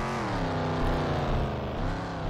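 Cop car in the Junkyard Fury 2 game driving close by, a loud steady engine drone with a slight rise and fall in pitch, heard alone.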